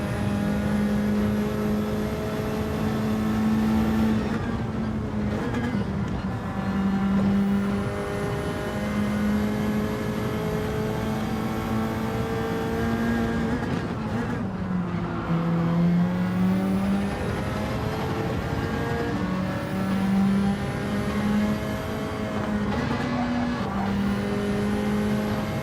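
Race car engines in a Gran Turismo race played in PSVR2, held at a steady loud drone for the whole stretch, with brief gear-change dips and pitch swoops as the car chases a Ferrari.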